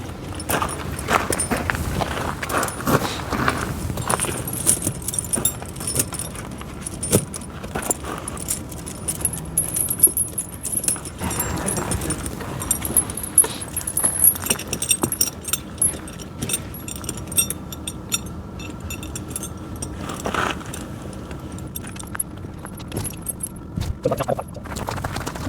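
Pewag Dopplespur tractor tire chains handled and fitted onto a tractor tire in winter, metal links jangling and clinking in irregular bursts with occasional thuds and footsteps, moderately close, no talking.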